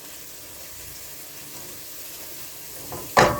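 Diced onions caramelizing in a pan give a steady soft sizzle and crackle, with a brief louder clatter near the end.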